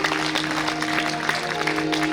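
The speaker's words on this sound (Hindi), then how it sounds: "तो जब मन हो तो हाथ उठा करके जोरदार ताली बजाइए।" Temple audience at a Srimad Bhagwat Katha gathering claps steadily, a dense continuous patter of many hands with a sustained musical drone underneath.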